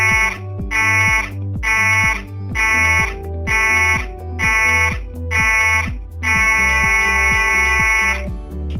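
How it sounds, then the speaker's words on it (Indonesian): A loud electronic emergency alarm on a passenger ship sounds seven short blasts in a steady rhythm, then one long continuous blast, harsh and buzzing. "Jika Anda mendengar bunyi alarm pendek 7 kali dan panjang 1 kali,"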